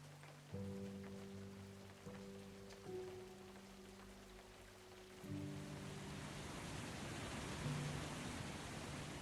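Pouring rain in a video game, a steady soft hiss of rainfall with low synth tones entering and holding in the background, faint and continuous.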